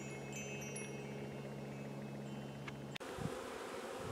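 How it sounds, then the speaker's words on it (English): Steady low buzzing of many honey bees out in the sun, continuous and fairly close, with a sharp click near the end. "the bees are out enjoying the sun"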